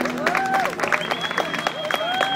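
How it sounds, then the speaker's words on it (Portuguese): An audience applauds after a storytelling performance by a children's performance group, brisk clapping mixed with some cheering and voices, with music and singing tones running over the top. "E quem gostou, pode aplaudir"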